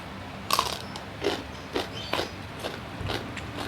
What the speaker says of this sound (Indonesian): Kita coba nih kecipirnya.